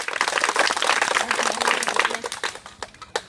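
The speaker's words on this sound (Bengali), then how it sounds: "সবাই তালি মারেন, সবাই সাক্ষী।" Audience clapping at a village magic show, a dense burst of close applause that thins out into scattered claps over a few seconds, with a voice speaking briefly underneath.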